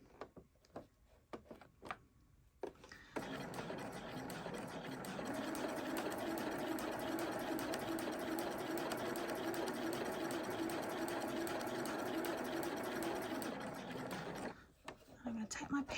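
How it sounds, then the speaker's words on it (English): A sewing machine slowly stitches a plain seam, starting after a few scattered clicks and then running in one long, even, close whir for about eleven seconds before stopping, with a voice faintly present. "then I'm very slowly going to stitch this"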